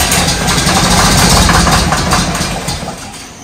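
John Deere 4430 tractor diesel engine running roughly with one sticking valve, a loud, close, continuous rumbling idle with uneven pulsing that eases slightly toward the end.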